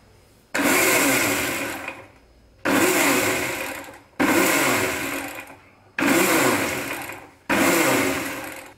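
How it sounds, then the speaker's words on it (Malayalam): A mixer grinder whips mayonnaise, whirring loudly in five short pulses, each burst starting abruptly and winding down, separated by brief quiet pauses. "ഇനി നമുക്കിതൊന്ന് വിപ്പ് ചെയ്തെടുക്കാം."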